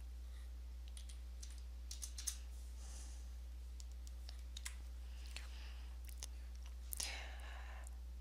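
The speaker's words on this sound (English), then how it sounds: "I'm just using my tab key." Light keystrokes on a computer keyboard while entering trip odometer figures, a sparse scatter of soft clicks and tab presses over a steady low hum, no talking.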